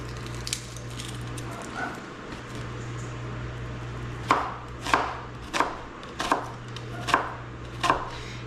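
Red onions chopped on a board: six firm, evenly spaced knife strikes in the second half, close and distinct over a steady low kitchen hum, with a few lighter taps before them.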